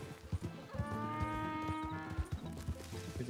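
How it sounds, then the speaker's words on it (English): A donkey in the video game Red Dead Redemption 2 brays in a drawn-out, wavering call over soft hoof clops, moderately close and fairly quiet. "He's a donkey."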